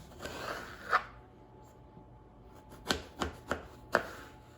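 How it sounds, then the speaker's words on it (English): Knife strokes through eggplant halves on a cutting board: a few soft, quiet slices with a pause, then a quicker run of four crisp cuts close by, no talking. "I will take each half and cut it into slices"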